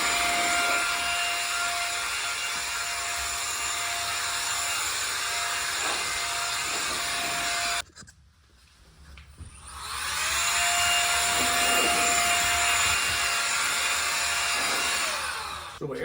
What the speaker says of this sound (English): Here are some of the uses you can do with your air duster.